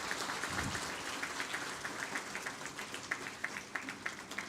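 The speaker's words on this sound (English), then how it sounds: "Ladies and gentlemen, one big round of applause." A crowd claps steadily in sustained applause, a dense patter of many hands with no voices.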